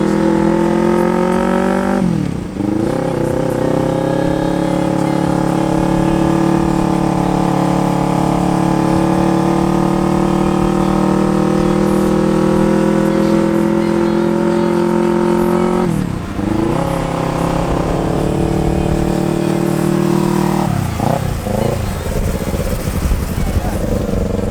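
Loud, close two-cylinder 250cc XSR motorcycle engine running steadily on a test ride, a sustained buzzing drone with harmonic tones that dip and rise again at several gear shifts or throttle changes.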